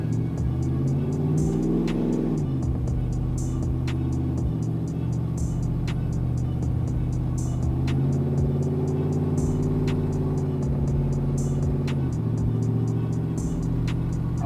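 A cammed 6.0L V8 swapped into an OBS truck revs hard on a chassis dyno in third gear with the converter locked, the steady engine drone climbing and falling in pitch across several pulls with a whirring mechanical clatter.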